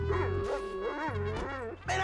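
Dog vocalizations from the video game GTA V, yips and whimpering bow-wows from the dog character Chop, repeated in short bursts close up, with game audio behind.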